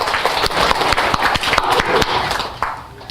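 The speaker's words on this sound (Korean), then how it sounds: "우리 박수 한번 쳐야 돼." Close, loud clapping from an audience at a Buddha's Birthday dharma talk in a Korean temple, with sharp individual claps in a quick, uneven rhythm over a dense crowd wash that fades out at the end.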